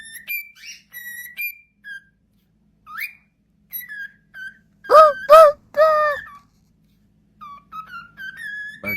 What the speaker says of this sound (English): Bird can whistle good.